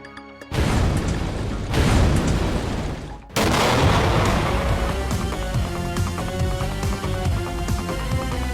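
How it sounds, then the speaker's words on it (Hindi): A loud explosive blast bursts in, then rumbles and sustains with crackling debris-like noise, followed by a second heavy boom that rolls on under a dense, noisy tail. "इतनी तेज धमाके की आवाज के बाद भी उसने रिएक्ट नहीं किया।"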